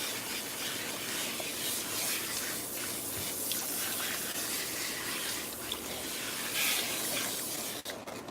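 Water sprays steadily from an Eco Head shower head that filters hard water, a continuous hiss and splash running onto hair during a wash, close and even throughout with no talking.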